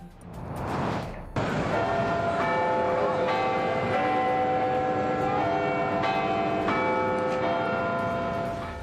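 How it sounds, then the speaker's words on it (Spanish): Big Ben, the clock tower bell of the British Parliament in London, strikes with a deep ringing toll that sustains and layers as further strikes hit, loud and resonant after a brief noisy lead-in. "Habrá que esperar 4 años para volver a escuchar las campanadas del Big Ben."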